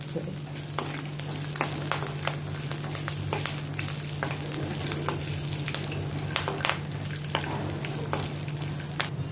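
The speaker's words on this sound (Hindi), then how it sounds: "इसमें मैं ये अभी कड़ी पत्ते डालती हूँ, इनको भी अभी मैं इनके साथ रोस्ट करती हूँ ताकि ये भी अच्छी तरह से फ्राई हो जाए" Curry leaves roast with almonds and peanuts in a pan, a dense continuous crackling sizzle with frequent small pops and stirring clicks, near and steady, with a low hum beneath and no talking.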